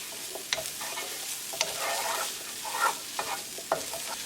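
Chicken and garbanzo beans with cilantro stirred in a hot pan on a gas stove, a soft sizzle broken by several sharp utensil scrapes and clicks against the pan, close and fairly loud, with no talking.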